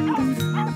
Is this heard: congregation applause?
no